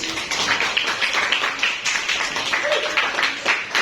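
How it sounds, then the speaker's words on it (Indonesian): A classroom group gives a short round of clapping for the first presenting group, steady and fairly close, with voices chattering over and through it. "Tepuk tangan buat kelompok 1"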